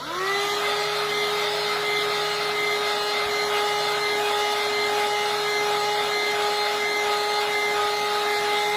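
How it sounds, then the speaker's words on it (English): A heat gun blows hot air over a fresh clear epoxy coat on a coffee-themed tumbler, starting with a rising whine that settles into a loud, steady hum. "I will grab my heat gun. so it's gonna get a little loud."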